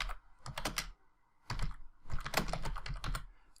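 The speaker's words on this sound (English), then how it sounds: "I can then begin to type" Typing on a computer keyboard: two bursts of quick, close key clicks separated by a short pause, with no talk.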